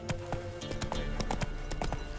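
In The Witcher 3 video game, a horse gallops with quick rhythmic hoofbeats that stay close and steady over game ambience for a couple of seconds.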